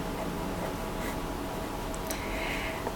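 A pen scratches out a formula on paper in a quiet room, a soft continuous writing scrape with small strokes and pauses, faint and close with no talking.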